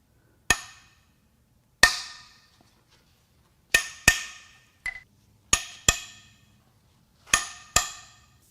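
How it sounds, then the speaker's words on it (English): Sharp metallic clacks of a socket and wrench working loose the cylinder head bolts on a 2014 BMW 328i N20 2.0L engine, about ten separate knocks spaced irregularly, close and alone. "Now it's time to get the head bolts loose."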